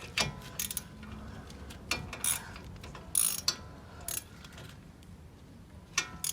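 Ratchet wrench turning a front hub bearing bolt on a Nissan e-NV200, giving repeated clicking bursts of the pawl with short gaps between strokes, close up over faint workshop background.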